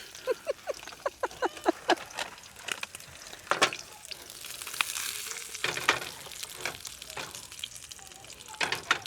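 Sausages frying in a pan on a camping stove, a continuous sizzle with crackles and scraping stirring clicks, close by, while people chat over it.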